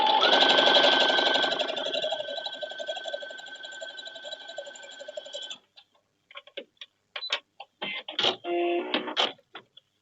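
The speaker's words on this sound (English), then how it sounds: "I'm just going to sew these first two together, 1/4 inch seam" Sewing machine stitching quilt pieces with a quarter-inch seam, a fast steady mechanical whir for about five seconds, then stopping, followed by scattered short clicks and taps of handling the fabric.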